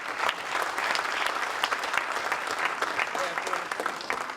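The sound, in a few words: audience applause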